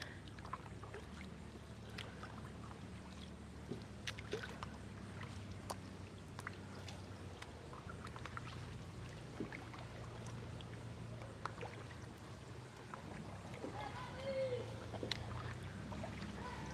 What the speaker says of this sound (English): We're paddling upstream at a freshwater spring right now.